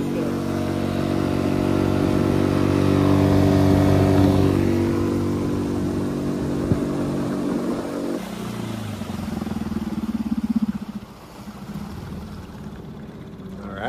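A 6hp outboard motor at full throttle on a microskiff, droning loudly and steadily before the pitch shifts and the engine note drops and fades near the end.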